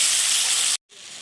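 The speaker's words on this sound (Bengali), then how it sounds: "এবারে সুন্দর করে লাল করে ভেজে নেব।" Pointed gourd and potato frying in a generous amount of oil, a loud, steady close-up sizzle and hiss that cuts off abruptly before a quieter fizz resumes.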